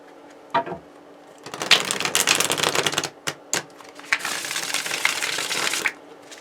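A deck of tarot cards being shuffled by hand: close, loud riffling and rustling bursts that come in several separate runs with short pauses, one long stretch followed by briefer flurries, and no talking.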